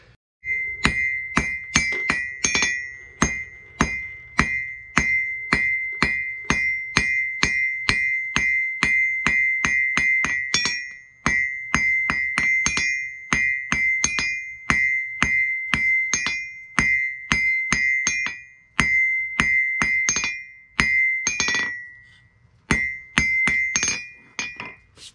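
A blacksmith's hammer strikes hot iron on an anvil while tapering scrolling tongs to a finer point, a long loud run of rapid, evenly spaced ringing metallic blows with brief pauses between bursts.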